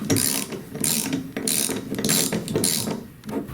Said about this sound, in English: With a 1-inch socket and ratchet, tighten until it's snug.